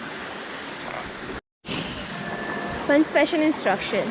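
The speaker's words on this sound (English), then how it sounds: "Downside of Mainapi Waterfall." Rushing water below Mainapi Waterfall in Netravali Wildlife Sanctuary, Goa, gives a steady broadband roar that runs throughout, broken by a short gap, with a voice speaking over it.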